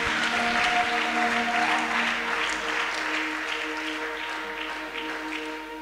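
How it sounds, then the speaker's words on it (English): A Pentecostal church congregation claps its hands during a worship service, a steady wash of applause that fades slightly as it goes. Sustained keyboard or organ tones hold underneath the clapping. "clap hands for Jesus"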